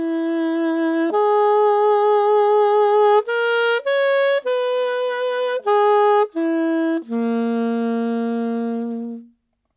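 A saxophone plays a theme tune phrase: a string of clean sustained notes, some short and detached, ending on a long held low note, solo and close.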